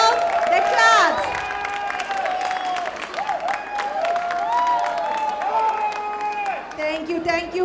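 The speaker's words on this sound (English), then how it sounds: "Another round of applause for the stars who just lit up this stage." An audience at a children's dance recital breaks into steady, loud applause with scattered cheers, continuous for several seconds while a voice talks over the clapping.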